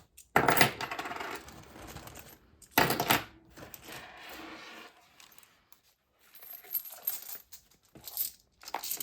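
Coins handled during cash stuffing, with bursts of loud metallic clinking and jingling as they are dropped and shuffled, separated by quiet gaps and followed by lighter scattered clinks.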